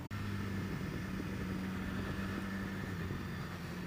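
A 2015 BMW S1000XR motorcycle engine runs steadily at a constant idle-like drone, a continuous low hum with a strong tonal rumble, moderately near and unbroken, with no talking.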